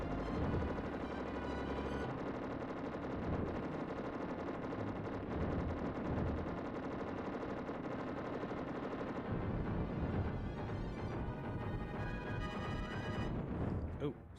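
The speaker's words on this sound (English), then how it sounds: "Oh, stop shooting my own vehicles." Gunfire in a Star Wars SNES game level with AT-ST walkers: constant rapid blaster and machine-gun style shooting with explosions, loud and dense throughout, with a voice speaking over it.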